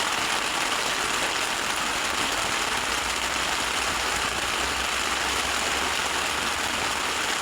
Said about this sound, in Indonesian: Hujan ini yang terdahsyat hujannya selama saya camping ya.